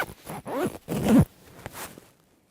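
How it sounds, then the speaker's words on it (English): A Dark Peak NESSH synthetic insulated jacket is zipped all the way up in two quick, close zipper pulls, followed by a soft rustle of fabric. "You can see how it fits if I zip it all the way up."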